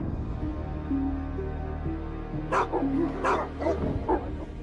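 Several sharp dog barks and yips, mastiff-type, burst out in quick succession over a steady droning background, fairly close and loud, with no talking.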